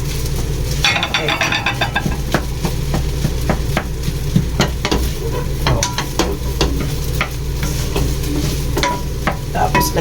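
Egg frying in a pan while being stirred, a steady loud sizzle with repeated sharp scraping and tapping strokes of a utensil throughout, under intermittent talk from a nearby speaker.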